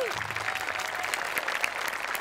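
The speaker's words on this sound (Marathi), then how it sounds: "सगळ्यात आधी गोस्वामी आणि आमिर हडकर आणि टीमसाठी जोरदार टाळ्या" A studio audience at a Marathi comedy show applauds for the performing team, a steady wash of clapping heard at moderate level throughout, with a faint voice trailing off at the start.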